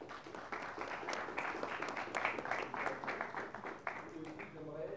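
Scattered applause from an audience at a press conference for an education-through-sport summit, quiet and somewhat distant, with a voice speaking near the end.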